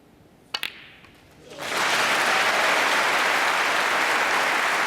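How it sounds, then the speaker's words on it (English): Audience at a snooker match at the Masters bursts into sustained, loud applause after the ball clicks of a shot, the clapping building quickly and holding steady. "he deserves that round of applause"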